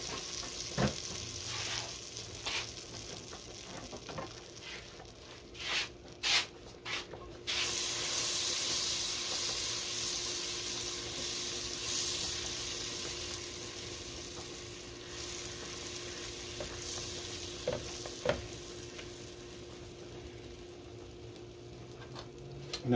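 A whole stick of butter melting in a pan for mac and cheese sauce: a few clattering knocks, then a steady, fairly loud sizzling hiss that settles and runs on alone with occasional sharp pops.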